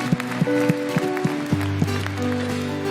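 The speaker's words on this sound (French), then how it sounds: "Applaudissez le Seigneur pour cette joie qu'il met dans vos cœurs et sur vos visages" Congregation clapping in rhythm during praise worship at a Catholic Jesus Day gathering, sharp regular claps over sustained keyboard and bass music, fairly close and lively.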